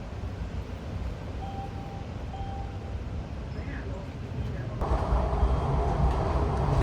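A low, steady rumble of a moving train fills the interior, growing louder and rougher near the end, with faint tonal squeals along the way.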